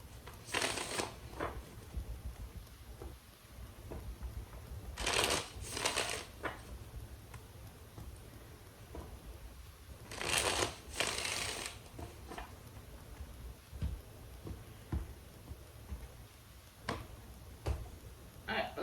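Tarot cards shuffled repeatedly by hand, several crisp riffling bursts at intervals, close and fairly quiet, separated by light tapping and rustling of the deck.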